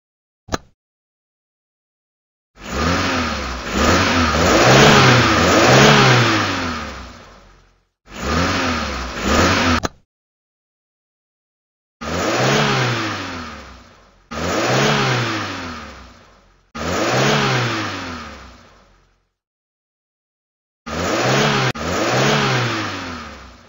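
Racing car engines from the Starfall reading game rev hard in several separate bursts, each a rising, roaring vroom that cuts off abruptly, with short silent gaps between them.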